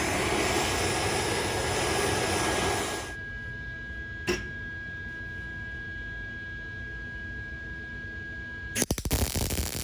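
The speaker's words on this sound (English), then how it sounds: "Making sure I've got a nice and clean weld." Arc welding on a cast steel Ford 8.8 rear axle housing, a steady loud crackling hiss with a constant whine that runs for about three seconds, then stops; a brief click follows, and a burst of rumbling clatter comes near the end.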